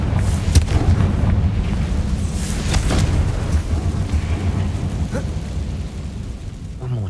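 Confringo spell blast in Hogwarts Legacy, a few sharp bursts over a constant loud roaring rumble, with a brief crack near the end.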